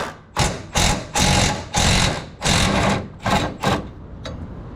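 A 15mm fuel tank strap bolt on the frame rail of a 1997 GMC Savana is loosened with a ratchet, giving a run of loud bursts of rapid clicking separated by short pauses, close up.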